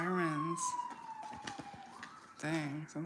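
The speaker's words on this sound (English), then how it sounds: "Wow, sirens." A siren wails as a rising and falling tone, loud at first and returning again later, with a voice talking underneath.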